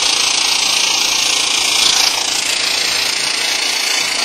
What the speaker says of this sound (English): Lay your anchor weld, and then hold your welder at 45 degrees to the anchor weld.